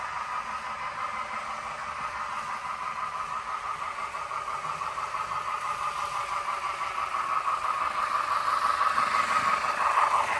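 A model train engine runs fast around a layout in a speed test, giving a steady rattling whir that slowly grows louder as it nears, with no voices.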